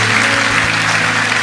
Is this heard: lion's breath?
no